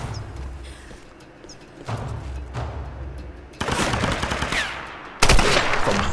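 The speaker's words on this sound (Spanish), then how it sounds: "Justo disparo la cabeza" Gunfire from Tomb Raider Definitive Edition played on PS4 comes in several loud bursts of game shots, the last two hitting hardest, with no talking over them.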